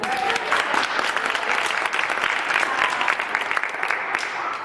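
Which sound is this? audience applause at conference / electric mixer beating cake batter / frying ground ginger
audience applause at conference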